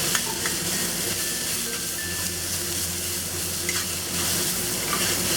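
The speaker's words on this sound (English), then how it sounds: "I'm going to add the peas, warm them up. Just give it a quick stir." Peas and barbecue pork being stir-fried for eggs with BBQ pork: a loud, continuous sizzle close by, with an even scraping and tossing texture throughout and no voices.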